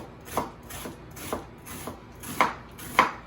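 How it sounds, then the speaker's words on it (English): A knife cuts an onion into half moons on a cutting board, giving about five evenly spaced, soft chopping thuds at a moderate pace. "I am gonna cut my onion in half, and then I'm just gonna do a few half moons"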